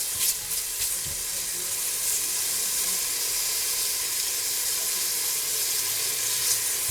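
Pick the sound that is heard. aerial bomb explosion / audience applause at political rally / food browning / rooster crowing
food browning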